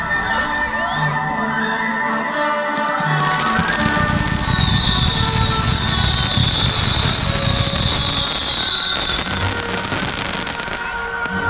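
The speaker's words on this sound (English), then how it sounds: "How do these damn fireworks have laid out over here?" Fourth of July fireworks go off nearby in a long loud barrage, with booming blasts, crackling, and whistling rockets rising and bursting over several seconds.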